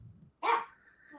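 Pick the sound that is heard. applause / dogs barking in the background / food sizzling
dogs barking in the background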